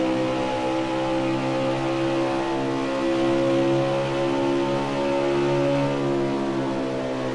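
NASCAR Xfinity stock cars lapping Las Vegas in the racing game NASCAR Heat 5, a loud, continuous, harmonically rich engine drone with a steady pitch that rises slightly midway, heard alone without voices.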